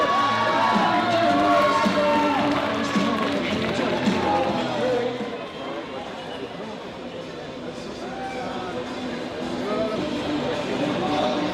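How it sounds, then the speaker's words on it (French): An audience at the Gym and Co 2019 bodybuilding show, a men's physique and bikini contest, applauds three contestants with sustained, loud clapping and cheering while an announcer talks over it. "on les applaudit toutes les trois"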